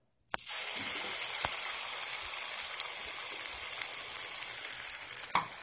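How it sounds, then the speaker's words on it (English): Tomato sauce sizzles and fries steadily in a wok with a little oil, a continuous loud hiss after a sharp start, with a few faint clicks of stirring and no talk. "I'll simply put it in the wok with a half teaspoon of oil, and I'll cook it for"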